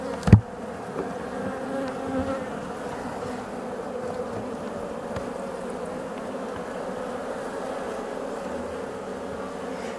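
Honeybees swarm around a hive in an apiary after the hive has been moved, producing a steady, continuous droning buzz that fills the whole stretch, with one sharp knock near the start.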